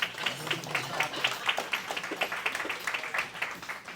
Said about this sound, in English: That was the clap, everyone.